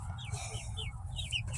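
A rooster on a small farm gives a quick run of soft, repeated clucks close by over a low background rumble.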